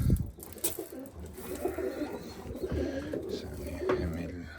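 Several pigeons coo in soft, throaty bursts nearby, overlapping with rustling and flutters, a few louder calls standing out.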